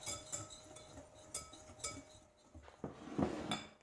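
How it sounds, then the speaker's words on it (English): Whisking cornmeal, baking powder and salt together in a bowl for sour cream cornbread, giving faint, quick clinks and taps of a whisk against the bowl in an irregular rhythm. "Cornmeal in, and then some baking powder, and 2 teaspoons of salt. And just whisk it together."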